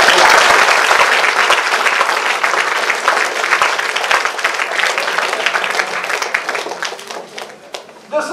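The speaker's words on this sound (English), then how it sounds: "let's give a big applause to" A large college audience claps loudly and steadily for several seconds, the applause slowly thinning out toward the end.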